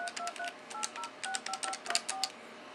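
Touch-tone dialing on a trixbox office phone system: a quick run of about a dozen short DTMF beeps in uneven rhythm, close and clear, with no talking.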